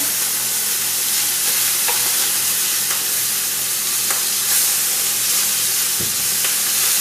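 Steady, loud sizzling and hissing of eel frying in a hot pan, with a few faint clicks of utensils against the pan.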